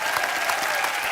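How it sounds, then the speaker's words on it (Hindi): Steady applause from a TV comedy show studio audience, dense clapping filling the whole moment without a break. "जोरदार तालियां"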